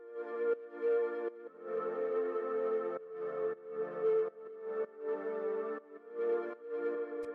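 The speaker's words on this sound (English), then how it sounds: "First sound we have here is this pad," A soft, ethereal synth pad in a beat moves through a chord progression at 80 BPM, each chord swelling and holding in turn, fairly quiet and alone.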